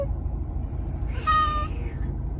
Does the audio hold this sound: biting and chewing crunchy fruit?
no